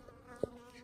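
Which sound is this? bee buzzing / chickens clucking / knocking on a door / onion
bee buzzing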